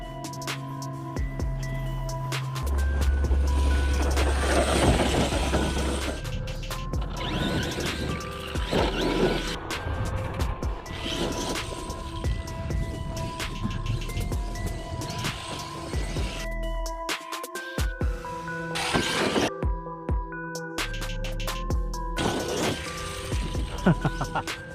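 Arrma Outcast 8S RC truck fitted with a Limitless 39-tooth pinion, driven hard around a construction site, its high electric whine surging with crashes, thumps and clattering landings under occasional talk.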